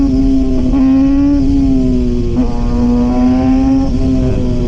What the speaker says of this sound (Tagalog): Konting birit lang tayo, konting birit lang.